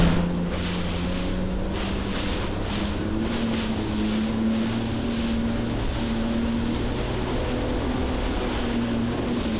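A Yamaha WaveRunner runs at speed across rough, wave-tossed water on Lake Winnipesaukee, its engine droning steadily under heavy wind buffeting and splashing, loud and continuous from start to finish.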